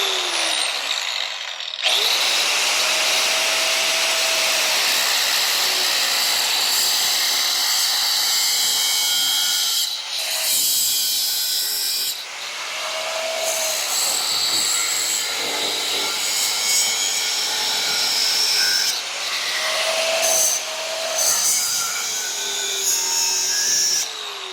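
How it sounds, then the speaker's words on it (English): An angle grinder cuts through an aluminum transmission bellhousing, a loud, high whining grind running almost continuously in long passes with brief pauses and pitch dips between cuts. "I am going to try the grinder first, and I'm going to wear a mask just to keep aluminum dust out of my mouth."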